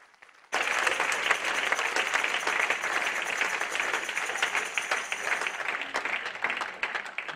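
A church congregation bursts into sustained applause after a brief quiet start, dense loud clapping that continues evenly to the end with scattered voices mixed in.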